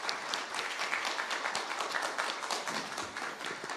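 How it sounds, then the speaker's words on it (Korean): Audience applause at a National Assembly policy forum in Korea, with dense, continuous clapping from a sizable crowd that stays steady throughout at moderate loudness, no voices. "큰 박수 부탁드립니다."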